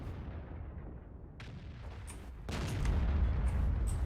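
A tank gun firing in World of Tanks, a sharp boom at the start followed by a second heavy report midway that leaves a louder rumbling tail, with no talk.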